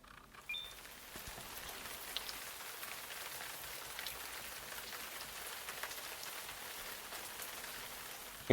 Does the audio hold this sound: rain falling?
yes